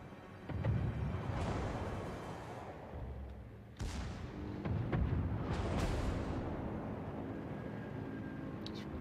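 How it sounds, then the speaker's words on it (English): Anti-aircraft flak fire in the World of Warships naval video game: sustained booming and crackling bursts with rumbling blasts, one sharp louder strike midway, continuous and fairly loud against a low drone, without talk. "These guys are taking a lot of flak now."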